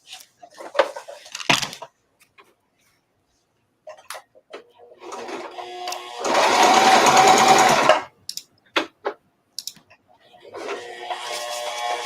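A sewing machine stitching a fodder book, with a steady whirring run of about a second and a half alongside short stops and bursts, clicks and handling noises, and people talking briefly around it.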